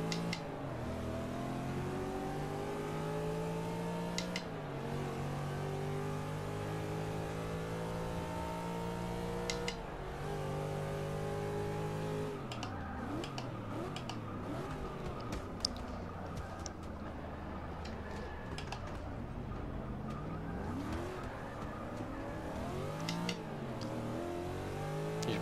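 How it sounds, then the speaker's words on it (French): A Toyota Supra race car in Forza Motorsport 6 during an endurance race at Monza, its engine a loud, continuous drone with revs climbing and dropping through gear changes and brief dips in pitch. "c'est parti en départ lancé avec cette Supra"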